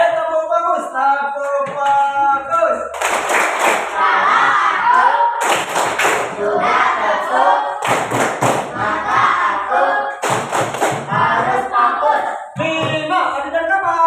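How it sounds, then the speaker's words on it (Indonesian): A primary-school class performs the 'tepuk fokus' clapping routine together, with several sharp bursts of group claps in a rhythmic pattern mixed with children's chanting voices in a classroom. "Ayo tepuk fokus."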